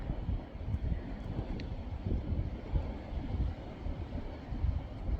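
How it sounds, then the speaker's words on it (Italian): Steady sirocco wind blowing across a coastal hillside above the sea, a continuous low rumbling gust noise buffeting the microphone with slight swells in strength, no voices. "C'è questo vento, dovrebbe essere scirocco"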